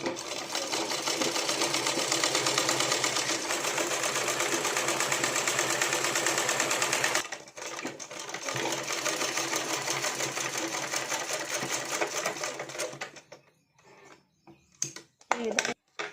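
A sewing machine stitches piping onto a blouse, running steadily and loudly for about seven seconds, pausing briefly, then running again before slowing to a stop with a few clicks and handling noises at the end.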